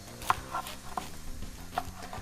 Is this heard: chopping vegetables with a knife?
yes